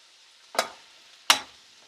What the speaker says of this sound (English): I'm frying them for about 2 minutes